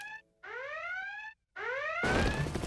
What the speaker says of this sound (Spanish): ¡La alarma contra el mal!